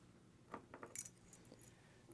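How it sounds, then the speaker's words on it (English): Metal door lock keys clink and jangle softly as they are gathered together, a few quick light rattles close by in a quiet room. "Put the keys together."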